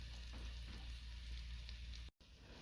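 Braised short rib sauce heats in a pan on the stove, giving a steady, dense sizzle and bubbling hiss that runs without a break, close and fairly soft, with no voices.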